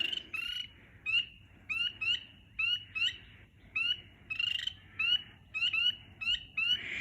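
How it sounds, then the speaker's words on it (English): A chorus of frogs calling at a vernal pool in quick, repeated chirping pulses, a steady rhythm of bursts roughly every half second over a low background hum. "So frogs make these really cool calls, and they're being really loud right now"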